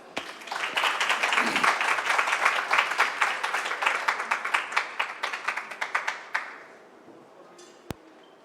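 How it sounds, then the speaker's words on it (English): An audience at a fireside chat on health systems breaks into warm applause, dense clapping that swells quickly, then thins to scattered claps before fading out. "can we give him a warm hand of applause?"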